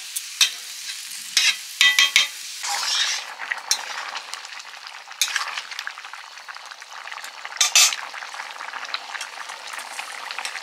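Boiled peas and potatoes stirred in a pan of Bengali ghugni, with a spoon scraping and clinking against the metal amid a steady soft sizzle, a few sharper knocks near the start, no voices.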